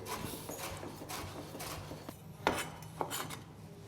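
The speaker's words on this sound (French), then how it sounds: "Et ensuite, on va juste ciseler." Fresh coriander leaves are finely chopped with a knife on a board, giving soft, quick, irregular taps and a couple of sharper knocks, faint and close, with no voices.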